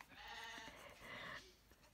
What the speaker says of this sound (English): you might hear my sheep. They're out the back here, right outside my window